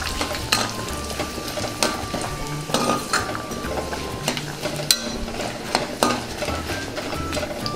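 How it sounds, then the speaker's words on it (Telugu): Tempering spices — cumin, dried red chillies and seasoning seeds — sizzle and pop in hot oil in a pan for mint rice, while a spoon scrapes and stirs with sharp metallic clinks over a steady frying hiss. "ఒకసారి కలుపుకుందాం."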